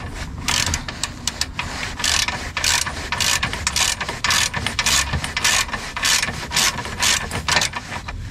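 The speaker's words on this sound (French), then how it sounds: "je vais dévisser jusqu'à temps" Ratchet wrench loosening a bolt on the rear engine mount of a Renault Kangoo, giving rapid repeated clicking bursts in steady back-and-forth strokes, close and loud, with no talk.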